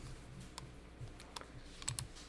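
A computer keyboard is typed on, including a Tab key press, giving a few sparse, close clicks over faint room hiss. The keystrokes are quiet, with no talking.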